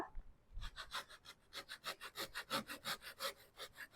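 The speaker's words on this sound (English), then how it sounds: "And then I'm just going to take a Japanese saw." A Japanese pull saw cuts through wood for a wreath project in steady, rhythmic rasping strokes, close and clear, about a dozen even back-and-forth passes with no talking.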